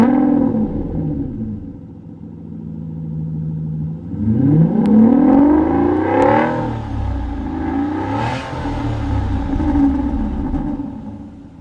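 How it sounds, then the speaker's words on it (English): A 2016 Aston Martin Vanquish Volante at a cold start, its engine running loud and close with a rising, revving surge and then settling into a steady, rumbling idle with a few further swells. "Do a cold start on our 2016 Vanquish Volante."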